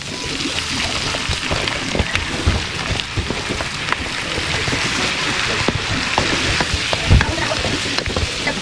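Shrimp dropped into a hot pan with garlic, frying in a loud, dense sizzle that crackles steadily throughout, with occasional stirring knocks and scrapes.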